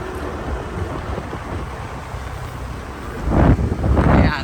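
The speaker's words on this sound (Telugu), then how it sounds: "చల్లగా గాలి." Cool outdoor wind gusts against the microphone as a steady broadband rush, swelling louder in the last second or so.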